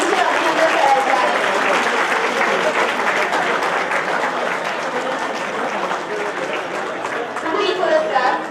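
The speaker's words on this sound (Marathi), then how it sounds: "सर्वांनी टाळ्यांचा वर्षाव करून टीमचे अभिनंदन करायचे आहे." A crowd at a university anniversary function applauds for a team in a dense, sustained wash that holds steady and swells slightly near the end.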